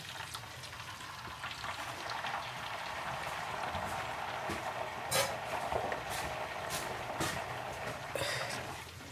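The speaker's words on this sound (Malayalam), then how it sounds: "ഇനി നമുക്ക് ഇതിലേക്ക് കഞ്ഞിവെള്ളം ഒഴിച്ചു കൊടുക്കുക." Rice water from red matta rice poured into a pan of fried onions for a Malappuram-style drumstick-leaf dish, hissing and sizzling steadily in the hot oil, with a few sharper crackles and pops; faint and fairly close.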